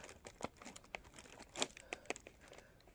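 A sticker label is peeled off a Walmart hairspray product, producing close, faint crinkling and tearing crackles in short irregular bursts.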